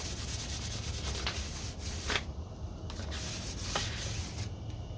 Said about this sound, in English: Just gonna kind of rub down those higher spots.